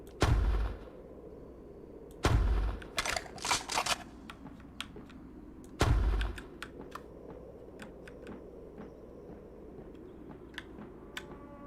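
Shots fired in an indie video game: three sharp, loud bangs several seconds apart, each followed by a rattle of smaller clicks and taps, with scattered faint ticks in between.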